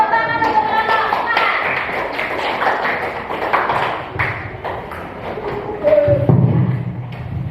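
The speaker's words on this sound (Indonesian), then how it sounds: "Tepuk tangan untuk kelompok" A class of primary schoolchildren claps for a student group after their presentation, a lively burst of many hands slapping unevenly in a classroom, with voices mixed in.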